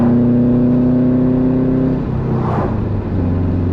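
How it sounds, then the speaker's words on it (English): A 2006 Subaru WRX wagon's boxer engine holds a steady, droning note, then dips and shifts pitch as the revs change, close and loud with a throaty hum. "It's the 2006 Subaru WRX wagon, and it's one of my favorite vehicles of all time."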